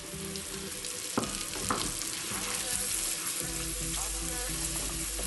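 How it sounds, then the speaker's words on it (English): Onions sizzling in a hot pan, sautéed gently for Turkish-style lentil soup, with a steady broadband frying hiss throughout and a couple of sharp clinks of a utensil against the pan, close and fairly loud. "Then throw your onions in."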